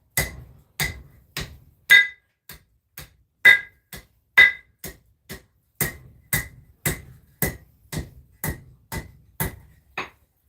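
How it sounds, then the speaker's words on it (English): Hammer strikes on hot metal during freehand forging of organic twists, about twenty sharp ringing blows in a steady, even rhythm, close and loud with no talking. "let's just start hammering this into whatever shape we want"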